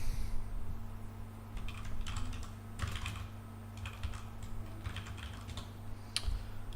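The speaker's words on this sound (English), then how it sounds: "I'm typing everything in the loot" Typing on a computer keyboard while entering loot items in an Unreal Engine gladiator game: irregular bursts of soft key clicks, close and moderately quiet over a steady low electrical hum, with no talking.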